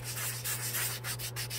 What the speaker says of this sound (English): Take your time, sand it out.